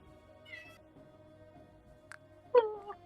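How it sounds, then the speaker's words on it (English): A cat meows nearby. A faint short mew comes early, then a clearer, louder meow with a small follow-up call near the end, against a quiet background with a steady tone. "I hear Uh, cat noises"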